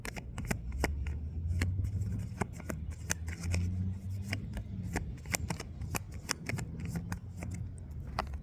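A tarot deck being shuffled, with a rapid, close run of crisp card riffles and flicks that repeat steadily over a faint low background rumble.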